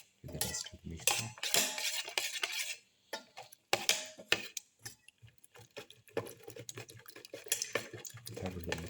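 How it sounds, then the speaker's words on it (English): A spoon or fork beats black pepper into an egg mixture in a bowl, giving a close, quick run of clinking and scraping strokes in uneven bursts with short pauses between. "Thoroughly mix in the black pepper"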